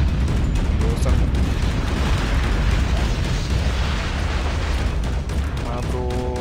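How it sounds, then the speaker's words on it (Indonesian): A nuke detonates in Call of Duty Mobile as a loud, sustained, rumbling blast that fills the whole stretch, with game voice lines faintly mixed in. "Friendly nuke has been launched."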